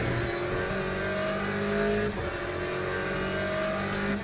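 Race car engines in the Le Mans Ultimate sim racing game, including Porsches, a continuous loud high-revving engine drone with shifting pitch, steady throughout without talk.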